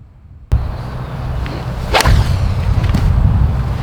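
Golf swing with a 2-iron on a course fairway, a sharp whip-like swish and strike near the two-second mark, followed by a short airy whoosh over steady outdoor background.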